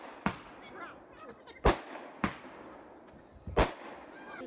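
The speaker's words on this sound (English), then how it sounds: "The event included amazing foods, entertainment, and a finale of fireworks." Fireworks finale at a Chinese New Year celebration: four sharp, loud bangs spaced about a second apart, each with a short crackling tail, over a low background murmur.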